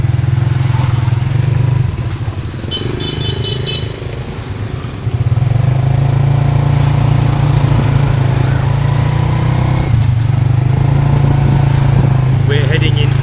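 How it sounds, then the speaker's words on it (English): Small tuk-tuk engine running steadily through a ride in Cambodia, a loud constant low drone with a brief dip and recovery midway, joined by road clatter and a few faint high tones. "This is our first time in a tuk-tuk."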